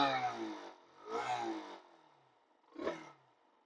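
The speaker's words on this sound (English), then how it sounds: "So let me give you a rev." A Zontes ZT125-C 125cc motorcycle with a stock stainless steel exhaust is revved three times while standing, each short engine rise falling back to idle, close and moderately loud with quiet gaps between the blips.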